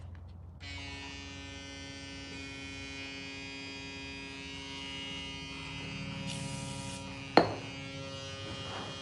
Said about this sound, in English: All right, let's do the instinct trimmer.